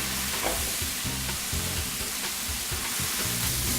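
A mushroom mixture with black cherry infused balsamic sizzles loudly and steadily in a hot pan, with the liquid bubbling off and occasional stirring scrapes. No voices.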